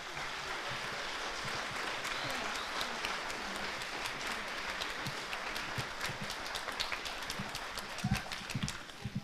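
Applause from a school orchestra concert audience, a dense steady patter of many hands filling the whole span, with a few louder claps near the end and faint murmurs underneath.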